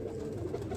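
A bun-tail pigeon, a fancy breed, gives a single soft, throaty coo up close, lasting under a second with no other sounds.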